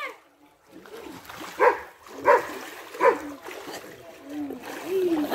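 A dog at a farmhouse gives three distinct barks about a second apart, fairly close, while water splashes and other faint background sounds continue underneath.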